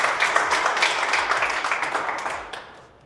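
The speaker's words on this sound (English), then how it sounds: "Big round of applause" Applause from a crowd at a 10-ball and bank pool national championship, a dense steady patter of clapping that carries on for a few seconds and then thins out and fades near the end.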